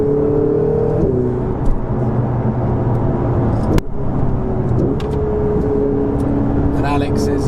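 A 2017 Ferrari 488 sports car engine revs hard under acceleration, rising tones broken by a sharp gear-change shunt, loud and close from inside the cabin with a steady whir of road noise beneath.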